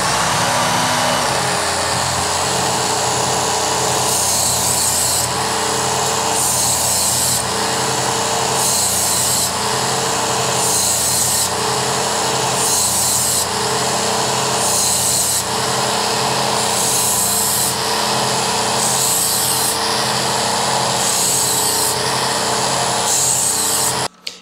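A Work Sharp Ken Onion powered knife sharpener grinds a dull knife with a continuous loud belt whir, its pitch shifting in a regular rhythm of about a dozen strokes, close up and without talk.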